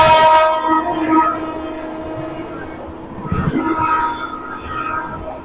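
A special express train rushes past alongside a stationary train on the New Jalpaiguri to Tiruchirapalli route, its horn blaring loudly at first, then a steady rumble and clatter of passing coaches, close and loud.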